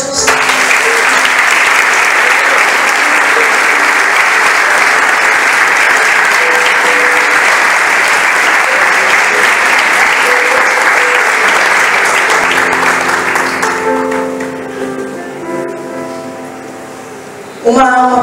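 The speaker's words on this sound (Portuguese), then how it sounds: "Você pode aplaudir Jesus?" A church congregation claps loudly and steadily for about thirteen seconds, then the applause thins and fades while a tonal sound rises underneath, before a sudden loud burst at the very end.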